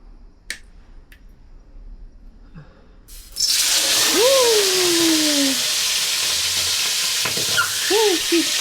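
Squid is dropped into a hot frying pan, setting off a sudden loud, steady sizzle that carries on close up after a few quiet knocks, with sharp spits and pops breaking through.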